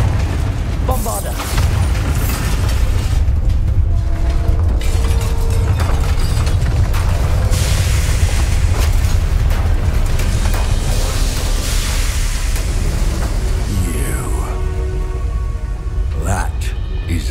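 Spell explosions from the Bombarda and Confringo spells in the Hogwarts Legacy video game: loud, dense, continuous booms and rumbling blasts lasting throughout, with voices shouting over them.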